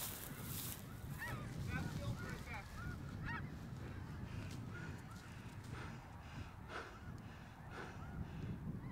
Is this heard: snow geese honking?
yes